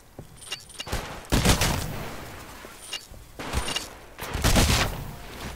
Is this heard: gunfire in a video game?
yes